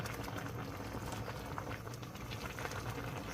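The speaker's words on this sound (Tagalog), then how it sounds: "Kumukulo, kumukulo." A pot of sopas, a Filipino soup, bubbles at a steady simmer, soft continuous gurgling and popping close by, with no voices.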